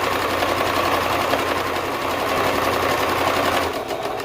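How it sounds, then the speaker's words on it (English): A sewing machine runs continuously, stitching a car seat cover, its steady mechanical whirr holding for about three and a half seconds before easing off near the end. "I like to just go back over where I started, back stitch a little bit, forward, back stitch again"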